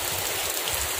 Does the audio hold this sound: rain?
yes